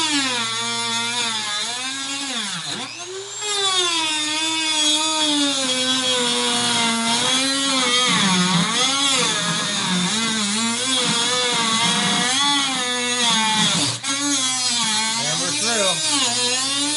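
A nearly worn-out cutoff wheel grinds through the hood of a BMW E46 M3 to open a center vent, producing a loud, continuous whine whose pitch rises and falls as the cut bites and eases, with a brief break partway.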